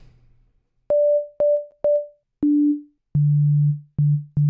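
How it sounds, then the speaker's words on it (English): Pure sine tones from an Ableton Operator synth playing a short sequence of clean notes that step down in pitch, each with a sharp onset and a clear sustain, loud and isolated against silence. "Pure sine wave."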